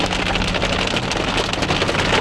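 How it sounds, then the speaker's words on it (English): Hailstones pelt down in a dense, steady roar during a sudden summer hailstorm, a continuous close clatter like heavy rain with no voices. "we're going through this crazy hailstorm in the middle of like a summer day"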